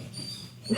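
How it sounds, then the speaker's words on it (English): A dog barks faintly in the background of an indoor room, a short muffled yip rising at the very end after quiet room tone. "doggo in the background"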